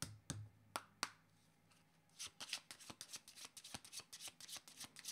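Tarot cards from a second deck being shuffled, starting with a few sparse riffles, then a fast run of crisp flicking card snaps, close and fairly quiet, with no talking.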